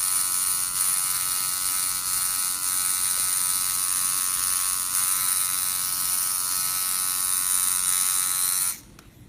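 A tattoo machine buzzes steadily throughout a live tattooing session, a close, continuous electric drone with an even level that cuts off abruptly just before the end.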